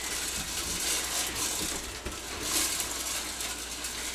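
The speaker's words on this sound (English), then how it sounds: "You got to crank the Whirley Pop." A Whirley Pop stovetop popcorn maker is cranked steadily, giving a dense, continuous rattling and clicking of gears and stirring against a hissing background.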